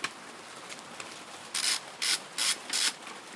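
A ratchet works on the rear brake caliper bolts of a Kawasaki Versys 650, first with light ticks, then four distinct, louder rasping strokes in quick succession, close up.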